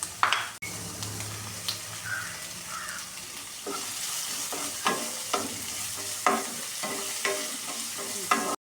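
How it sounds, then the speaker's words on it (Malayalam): Garlic and onion sautéing in a pan for a drumstick-flower thoran, with a steady close sizzle broken by a regular series of spoon scrapes as the pan is stirred, no voices. "കുറച്ച് വെളുത്തുള്ളി, ഒരു വെളുത്തുള്ളി, കുറച്ച് സവാള, അതിലൂടെ ചേർത്തൊന്ന് വഴക്കാം"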